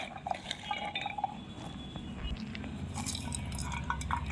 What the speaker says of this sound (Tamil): மூணு முட்டை மூணு முட்டை இதில் ஊற்றிக்கலாம்